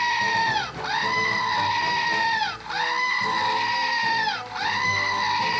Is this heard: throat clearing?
no